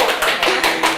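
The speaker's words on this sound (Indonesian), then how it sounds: "tepuk tangan dulu dong" A short burst of hand clapping opens a podcast, several close, bright claps in quick regular succession.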